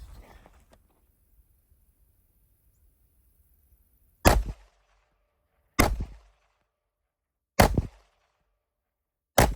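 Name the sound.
Glock G45 pistol shots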